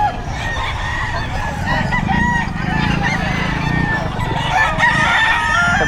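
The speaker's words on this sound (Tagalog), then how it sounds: "every Friday napakarami pong manok" Many chickens and roosters at the busy Friday Bocaue pet market in the Philippines crow and cluck over one another in a dense, continuous din, with goose-like honks mixed into the crowded, noisy market bustle.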